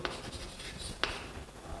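A brief stretch of writing on a board in a physics lesson on rotational motion, with two faint, quick scratching strokes against a soft, noisy room background.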